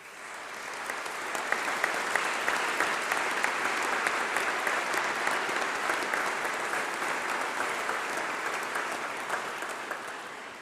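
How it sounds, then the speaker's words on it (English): Sustained applause from a large crowd at a winter congregation ceremony, steady clapping that swells and holds for about ten seconds without talking. "let's take a moment to have a round of applause for all those people."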